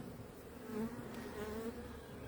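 Dense, steady buzzing of many honey bees close by inside the hive, a continuous droning hum that rises and falls slightly, with no talking.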